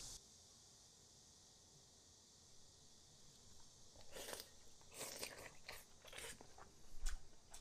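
Crunchy bites and chewing of homemade pumpkin and egg dumplings, starting after a quiet stretch, then close, repeated wet crunches building in a loose rhythm, with no talking.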